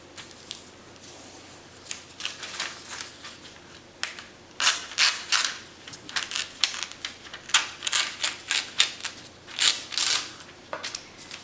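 Paper being trimmed for a junk journal with scissors: a series of crisp snipping cuts that start sparse and grow into a steady run of close, quick snips, with no talking.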